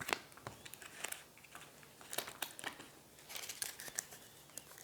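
Five cards drawn one after another from a deck in a solo game of Aeon's End, heard as soft, close papery slides and flicks in an irregular rhythm over faint background hiss.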